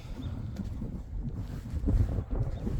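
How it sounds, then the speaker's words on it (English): Gusty wind blusters against the microphone outdoors at a model flying field, a low rumbling buffeting that swells toward the end. "now of course the wind is picking up as usual"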